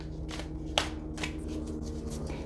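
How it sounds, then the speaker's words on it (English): A tarot card deck is shuffled by hand, with soft papery riffles and a few distinct card slaps and rustles, close and fairly quiet, with no talking. "so I'll shuffle the deck 6 times"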